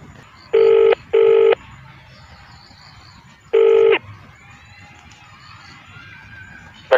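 Three short bursts of telephone keypad dialing tones, the first two close together and the third after a pause, then quiet line hiss with a faint click at the end.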